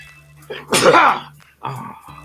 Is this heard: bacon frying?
no